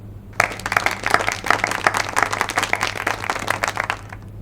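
A burst of applause in a comedy film scene: steady, dense clapping from a group starts abruptly and carries on evenly and fairly loud before cutting off, with no voices over it.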